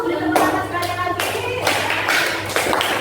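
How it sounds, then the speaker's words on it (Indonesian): Children in a classroom clap for a presenting group, a loose burst of hand claps with tonal hum beneath, fairly close and steady throughout. "beri tepuk tangan sekali lagi"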